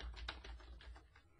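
Rapid keystrokes on a computer keyboard while entering labels for a compound interest worksheet, a close, steady run of clicks with no talking.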